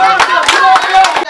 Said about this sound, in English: Clap her again.